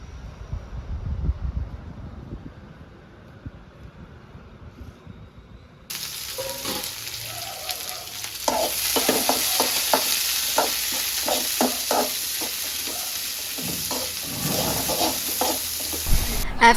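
Onions frying in a pan for lemon rice, a steady close sizzle that starts abruptly partway through, with repeated scraping stirs of a utensil over the hiss after a quieter stretch of faint outdoor background, no talk.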